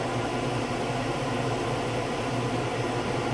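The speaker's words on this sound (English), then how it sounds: "I have stuff in defrosting in the microwave" A microwave oven runs on defrost with a steady, even hum and whir, unchanging throughout with no other sounds.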